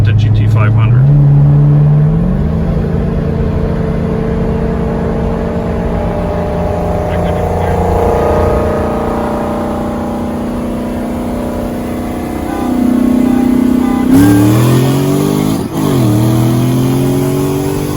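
A 2020 Dodge Challenger Redeye and a 2014 Ford Shelby GT500 racing, loud engines climbing in pitch through several gear changes, fading as the cars pull away, then a second burst of hard revving and acceleration near the end.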